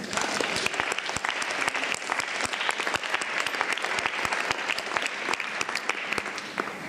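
An audience at a cultural forum in Avignon breaks into sustained applause, dense and even, with many individual claps standing out over a steady roar of hands.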